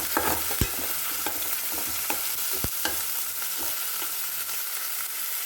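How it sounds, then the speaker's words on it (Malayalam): Onion, green chilli and tomato sautéed in hot oil in a pan, with a steady close sizzle broken by repeated scraping stirs of the spoon against the pan, and no talking. "അതിൻ്റെ അകത്ത് അരിഞ്ഞ് വെച്ചേക്കുന്ന തക്കാളിയോടെ ചേർത്ത് നന്നായിട്ട് വഴറ്റിയെടുക്കണം"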